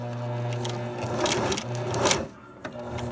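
A sewing machine stitches a thermal bag in short bursts of close mechanical whirring, pausing briefly between runs.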